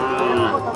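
Cattle at a bustling livestock market, a sustained low moo close by, blended with crowd noise.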